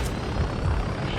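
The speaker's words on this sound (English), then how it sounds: "Shot down the helo." A helicopter in Ghost Recon makes a steady, low, throbbing rotor and engine drone, loud and close, with voices faintly mixed underneath.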